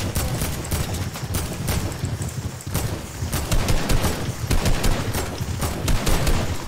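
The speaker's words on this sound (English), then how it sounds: "Who is shooting at me?" Gunfire in the Fortnite video game crackles in rapid, overlapping bursts of sharp shots, loud and close, running steadily throughout with no talking.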